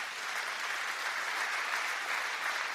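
A church congregation applauds together during a sermon, a steady dense wash of many hands clapping with no pauses, moderately distant and alone without talk.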